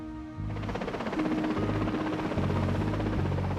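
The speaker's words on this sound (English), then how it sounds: "a rescue helicopter winches up 14 of the survivors and flies them back to Aberdeen" A rescue helicopter roars steadily with rapid thudding rotor beats and a low engine drone, loud and close throughout.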